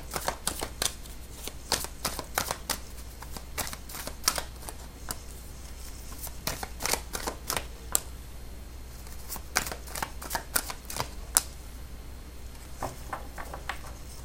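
Tarot cards are shuffled steadily and close up, giving a continuous run of quick, crisp riffling clicks and snaps over a faint low hum, with no voices.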